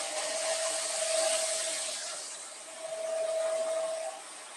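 A concrete floor grinding and polishing machine runs steadily with a loud, broadband whir and a sustained tonal hum, rising and dipping slightly in level as pressure is applied, with no talking.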